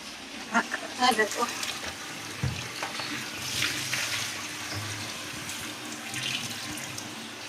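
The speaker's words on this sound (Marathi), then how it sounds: "तिकडे पाणी लावलं भरायला" Water runs steadily from a tap, filling a container, while a few voices and clinks sound early on over the constant flow.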